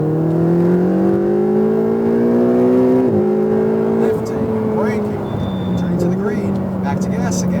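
A Ferrari 488 on a racetrack accelerates at full throttle, its engine note climbing in strong harmonic sweeps with a brief dip at a gear change before pulling again. Loud and close throughout, with a voice talking over it.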